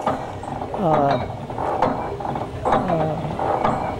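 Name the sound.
hit and miss engine running slow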